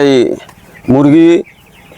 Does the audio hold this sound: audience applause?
no